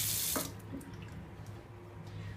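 Water runs steadily from a sink tap fed by an Electrolux AQ16N gas water heater, a continuous close hiss after a brief louder splash at the start, with no talk.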